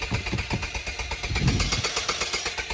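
Can-Am Outlander 1000 ATV engine cranks rapidly with a rhythmic chugging starter pulse, close and steady for the whole stretch without catching.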